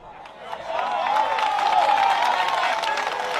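A crowd at a debate gathering applauds and cheers in a dense, steady wash of clapping that swells after the first half second and holds loud to the end, with voices mixed in.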